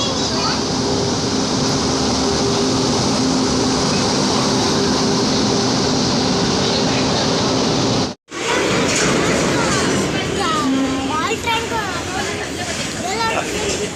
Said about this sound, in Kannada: ಇದು ಅದು ಸಾಮಾನು ಟ್ರೈನ್ ನೋಡ್ರಿ.